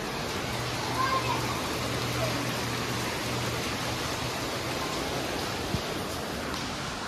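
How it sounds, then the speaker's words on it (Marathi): Heavy monsoon rain pours down steadily on Gauri Puja day in Maharashtra, a dense, even hiss that fills the scene from start to finish, with a faint low hum underneath and no clear voices. "आता बघा एवढा पाऊस पडतो आज"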